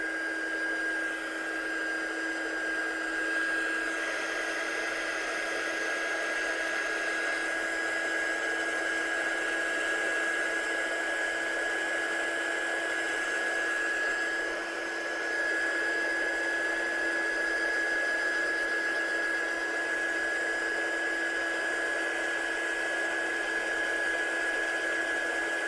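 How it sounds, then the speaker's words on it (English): A heat gun blowing on wet black paint on a handmade silhouette card, a loud steady whooshing drone with a fixed tonal whine that holds unbroken for the whole stretch, no voices over it. "I'm just going to get my heat gun on that now"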